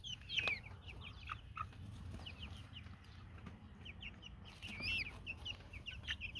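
A black Australorp hen clucks softly in a repeated run of short, quiet calls, with other chickens chattering faintly around her outdoors.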